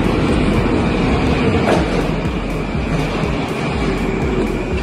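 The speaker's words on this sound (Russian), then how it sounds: "Наш поезд прибывает. И отправляемся." A Moscow metro train on the circle line rumbles steadily through, with continuous low rail noise and rhythmic clacking of wheels over track joints, loud and close throughout.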